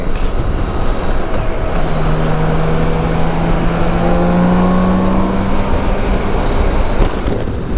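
A BMW K1600 GTL motorcycle engine pulls hard through the low gears, its tone rising steadily under heavy wind rush from riding.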